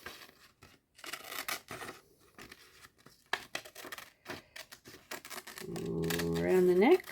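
Scissors snip out a paper shape in quick, crisp bursts of cutting, with short pauses between runs and a brief voice-like hum near the end.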